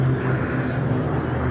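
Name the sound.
four-engine USAAF bomber propeller aircraft flying at airshow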